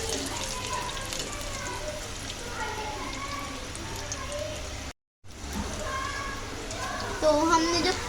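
Zinger fries cook in hot oil over medium flame, a dense, continuous rain-like bubbling hiss that briefly cuts out, with a voice faintly audible beneath it.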